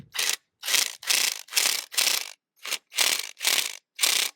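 Socket wrench ratcheting on a generator muffler bolt: nine even, close back-and-forth strokes in a steady rhythm, each a dry raspy click-rattle separated by short silences.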